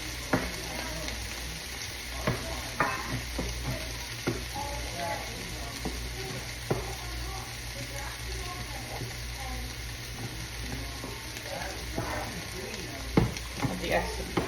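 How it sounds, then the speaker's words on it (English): Steady frying sizzle of sausage gravy in a pan close by, with occasional clicks and stirring scrapes, continuous throughout with no talking. "So I got my sausage gravy cooking over here"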